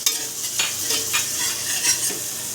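Garlic sizzling in oil in a pot alongside a little ginger for beef sinigang, a short hiss with a few quick stirring scrapes, close and clear, nobody speaking.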